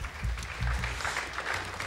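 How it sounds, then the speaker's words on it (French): Congregation applauding for Jesus at an evening prayer service in Mulhouse, a dense wash of clapping with deep low rumble, steady and fairly loud throughout the short stretch. "Un applaudissement pour Jésus."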